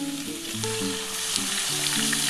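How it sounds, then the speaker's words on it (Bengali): Mutton frying and sizzling in a hot pan for a home-style mutton and potato curry, a steady close hiss of oil running through the whole short stretch with a faint tonal hum underneath. "এরপর আমি এই মটনটা ছেড়ে দেবো।"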